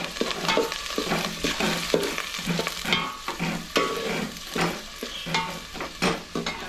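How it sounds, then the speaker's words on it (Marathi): Onions and green chillies frying in hot oil for a jackfruit vegetable dish, with a steady close sizzle and repeated stirring scrapes of a utensil against the pan throughout, no talking. "मिरची ना कांदो टाकून तेल तापला एकदम आता कांदो उडता येईल"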